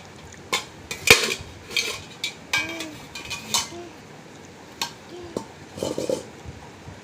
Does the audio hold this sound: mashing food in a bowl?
yes